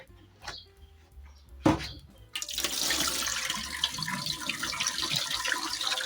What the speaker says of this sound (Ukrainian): пару разів я промию під приточною водою цю ягоду